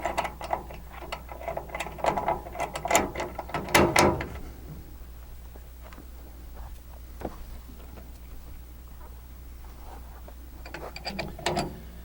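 A winch mechanism engineered for 10,000 pounds ratchets in bursts of sharp metallic clicks, busiest in the first four seconds, then a quiet stretch with a few isolated clicks and a brief final flurry.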